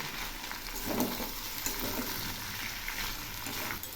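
Jackfruit curry with spices and a little sugar being stirred in a frying pan, a faint continuous sizzle with soft scraping stirs, quiet and alone.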